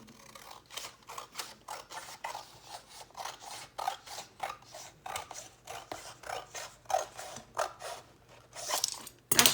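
Scissors trim paper for a handmade mini album cover in a steady series of quiet, rhythmic snips and rustles, with no one talking.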